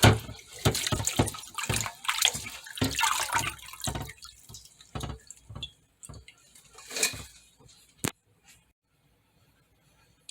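Garden peppermint leaves swished by hand in a bowl of soaking water: busy splashing and sloshing close by, tapering into a few drips and a final splash before quiet.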